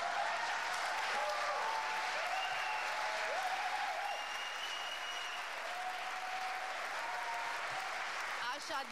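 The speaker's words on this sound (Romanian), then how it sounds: "să-i aplaudăm atât de tare încât să-i audă și vecinii lor" An audience at the UNITER 2023 theatre awards gala gives the band loud, sustained applause, dense clapping that holds steady throughout, with a few voices and whoops mixed in.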